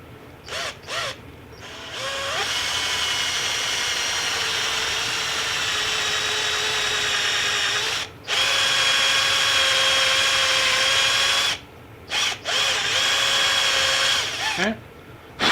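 A power drill with a Forstner bit bores into a wooden fishing decoy, a steady close whine that runs for several seconds at a time, broken by a few brief stops and restarts.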